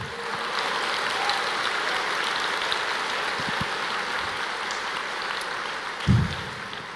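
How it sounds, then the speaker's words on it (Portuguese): A church congregation claps together in a dense, even roar of applause that runs throughout, with a brief low thump near the end and no talking. "Você não pode aplaudir o Senhor?"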